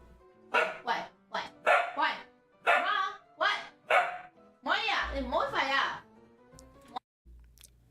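A pet dog barks in a string of short, loud, sharp barks in irregular bursts, with a few yips near the end, close and clear with no talking over it.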